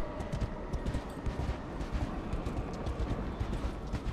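Rapid, steady hoofbeats of a galloping horse in the video game Darksiders Genesis, dense and continuous over a constant background rumble.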